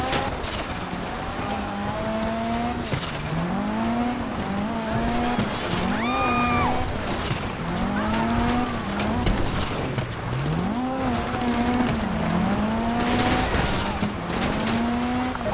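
A car in GTA drives hard with its engine revving up and down through repeated shifts and tires squealing, a loud, continuous game soundtrack with no talk over it.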